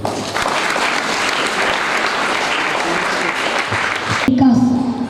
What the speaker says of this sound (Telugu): సరే గట్టిగా చప్పట్లు.